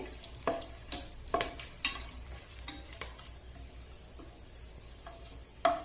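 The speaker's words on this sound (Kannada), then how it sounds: "ಇವಾಗ ಗೋಡಂಬಿ ಹಾಕೋಣ ಗೋಡಂಬಿ ಸ್ವಲ್ಪ ಕೆಂಪಾಗಲಿ" Cashews frying in a small pan for an avarekalu pulao, with a faint sizzle punctuated by sharp clicks and taps of stirring against the pan, close and quiet with no talk.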